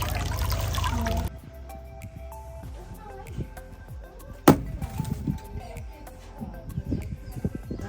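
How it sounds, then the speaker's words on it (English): Water drains and trickles from a tilted sieve of gravel while digging for diamonds at Crater of Diamonds State Park, Arkansas, with a loud gush at first, then scattered dribbles and wet gravel shifting nearby. "I'm going to lift this out at an angle and let all the water drain out before we flip it."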